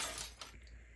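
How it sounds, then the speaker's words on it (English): A glass window shatters in a short, bright crash of breaking glass that fades within a second, heard alone without voices. "The massive head of the beast slammed violently through the glass window right above them"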